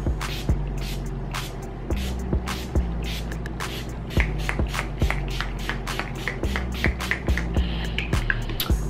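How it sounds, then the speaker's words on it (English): Urban Decay All Nighter setting spray is misted onto a face in a series of short, sharp hissing pumps, about a dozen spaced bursts, close to the mic over faint background noise. "I'm gonna take my Urban Decay All Nighter setting spray and I'm just going to spray"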